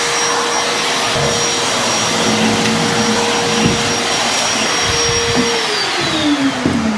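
Vacuum cleaner running loud and steady throughout a bathroom renovation, its motor whine holding constant then dropping in pitch near the end as it winds down.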